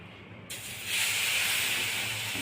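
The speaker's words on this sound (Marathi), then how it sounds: "आता आपलं तवा तापला आहे, त्यावर आता आपण उत्तप्पा घालत आहोत" Uttapam batter hits a hot tawa and sizzles, a sudden loud hiss that swells after a moment and holds steady, close by with no talking.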